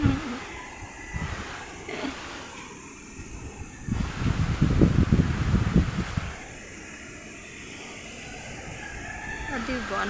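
Strong typhoon wind from Typhoon Tino roars and gusts around a house, swelling to a loud rushing burst in the middle and easing off, with a person talking in places.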